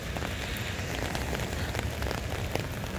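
Steady rain falls outdoors while someone walks through it, a dense, even hiss of drops on the ground and surfaces, close and continuous throughout.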